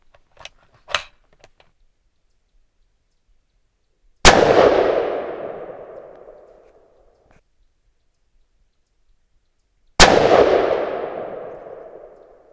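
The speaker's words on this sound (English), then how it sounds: "Let's finish off with 2 shots in the Hornady." Two 6.5 Creedmoor rifle shots fired with Hornady ammunition from a TC Compass crack out several seconds apart, each a sharp loud blast followed by a long rolling echo that fades away, after a few faint clicks at the start.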